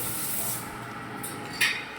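A bathroom bidet sprays water with a steady close hiss lasting two seconds, brightening with a couple of short sharper spurts near the end.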